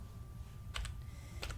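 A couple of brief key presses on a computer keyboard, two short paired clicks spaced apart over a low hum, with no talk.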